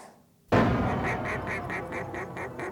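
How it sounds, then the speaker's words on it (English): A run of duck quacks, about eight evenly spaced calls, loud and close, opens abruptly after a brief quiet stretch in a radio ad for duck hunting by express boat. "duck hunters know you have to go to the ducks"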